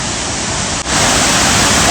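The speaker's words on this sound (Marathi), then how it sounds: "आणि वरच्या वॉटरफॉलला पाणी आहे बघा किती, काही फुल पाणी आहे, खतरनाक पाणी आहे जबरदस्त" Shubhedar waterfall in Murbad, Thane, in full monsoon flow, roars as a loud, dense, steady rush of water very close by. A brief dip interrupts it near the middle, and no voices are heard over it.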